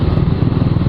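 Honda Wave 110R motorcycle running with a loud, close, steady engine drone and rapid pulsing throb throughout.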